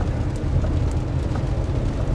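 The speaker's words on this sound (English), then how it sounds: "the rain ain't making for some pretty rough driving conditions" Steady rain drums and hisses around a car being driven through a downpour, a continuous dense wash of sound with a low rumble beneath and no voices.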